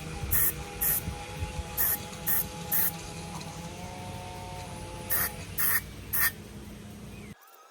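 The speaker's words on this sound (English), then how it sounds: "So now we're gonna media blast it," Media blasting of a hot metal part from a Nissan S15, a steady roaring hiss with a low compressor drone and repeated bursts of sharper blasting noise, close and loud, with no talking.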